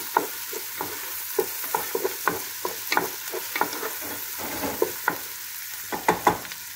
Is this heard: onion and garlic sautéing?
yes